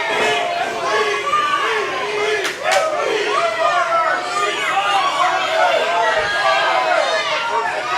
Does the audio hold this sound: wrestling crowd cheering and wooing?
yes